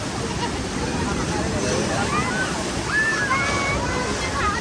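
Sea water sloshing and surging at a beach, a steady wash of waves with people chattering and calling in the background.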